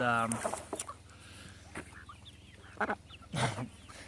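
Meat chickens and baby turkeys cluck and squawk close by in a backyard flock, with a few sharp calls over a low steady hum, brief bursts at the start and again near the end.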